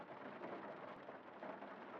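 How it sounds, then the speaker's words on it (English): Rain and thunderstorm ambience in the farming video game Grimshire: a faint, even hiss of rainfall with soft low rumbling underneath, continuous and without voices. "we're ready to deal with this thunderstorm today"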